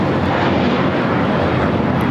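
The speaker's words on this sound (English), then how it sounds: "American Airlines 238 taking off to JFK on the A321." An American Airlines A321 jet takes off at LAX, bound for JFK, its loud, steady broadband engine roar filling the air evenly without a break.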